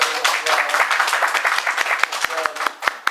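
A small group claps during introductions at a youth organization gathering, with uneven, close claps and a few sharp individual smacks toward the end, and voices underneath.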